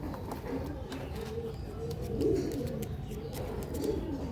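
Pigeons coo softly in a loft where a Malbai pigeon is being handled, low rolling coos swelling twice amid steady background murmur and faint voices.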